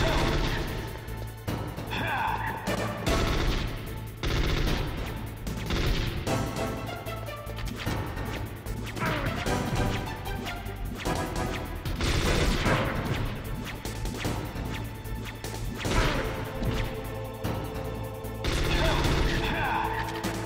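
Gunfire from a FAMAS rifle in the Metal Gear Solid video game, dense bursts of crashing shots and impacts mixed with game music and effects, continuous and loud throughout.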